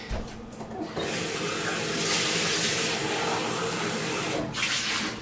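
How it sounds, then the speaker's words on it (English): Tap water running steadily into a Nutribullet blender cup to rinse out thick green smoothie residue, a continuous broadband splashing rush starting after a brief pause and holding loud and close throughout. "I'm going to just rinse that out quickly"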